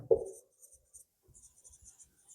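Pen writing notes during a Class 10 science lesson, soft scratchy strokes in short bursts following one sharp knock at the start, close but faint, with no talking.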